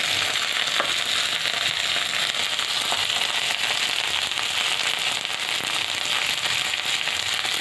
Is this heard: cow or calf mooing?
no